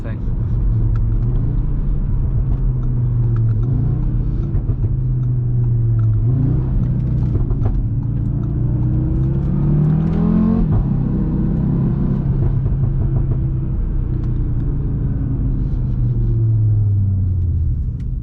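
A 570 hp Audi RS3 with an A3 body accelerates hard, its loud engine droning and rising in pitch through gears, with a sharp shift near the middle and the drone continuing strongly to the end.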